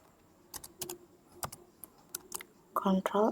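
Computer keyboard keys tapped in a short run of sharp, separate clicks, a few quick strokes spaced apart and a final firmer press like the enter key, close and quiet over a faint room hiss, then a voice speaking.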